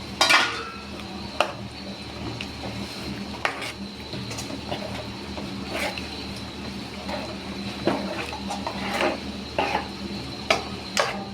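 Boiled chickpeas tipped into a simmering pot of tamarind kara kuzhambu, giving scattered metallic clinks and scrapes of a spoon against the pot, several sharp knocks spread irregularly over a soft bubbling background, no talking.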